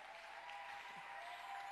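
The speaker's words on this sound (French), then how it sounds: "Est-ce qu'on peut acclamer pour notre chorale?" Church congregation applauding the choir during a Sunday service, a steady wash of clapping at moderate distance that holds evenly throughout.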